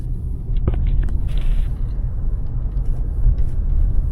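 The cabin of a Kia K5 taxi rolls along city streets with a constant low road rumble and engine drone, plus a few faint clicks and knocks. No one speaks.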